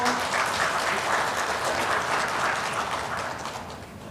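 A church congregation applauds loudly during a Sunday worship service, dense and sustained clapping from many hands that fades slightly toward the end.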